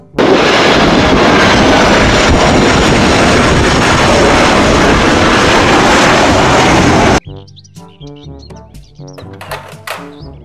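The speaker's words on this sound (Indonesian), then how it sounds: "Pesawat terbang." A toy airplane gives a loud, steady roaring jet-engine rush for about seven seconds, then drops to a quieter tinkling electronic melody.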